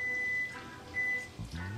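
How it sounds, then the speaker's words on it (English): A kitchen timer beeps while pasta boils for mac and cheese, giving two short, thin electronic tones separated by a pause, faint against quiet kitchen background with a brief clatter. "that's the timer"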